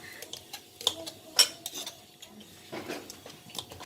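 A knife slicing red chili peppers into small pieces for pounding with shrimp paste, giving a series of light, close taps and clinks of the blade on a board and dish, irregular and quiet.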